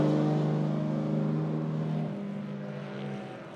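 A Holden Commodore and a Mitsubishi Lancer rally car drive past at a rally event. The engines roar loudly and close, then the pitch drops and fades slightly as the cars move away.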